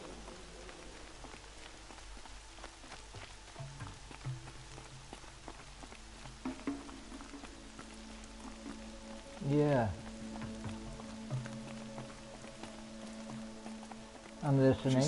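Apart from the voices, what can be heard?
rain in the video game Horizon Zero Dawn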